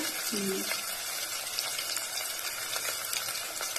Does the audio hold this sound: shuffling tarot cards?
no